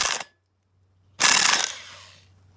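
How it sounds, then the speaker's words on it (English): A short impact wrench burst on 14 mm rotor bolts of a Nissan D21 pickup, then a pause and a longer, loud rattling run that fades out, close up with no talking. "We're gonna go ahead and get rid of these 14s with our impact here."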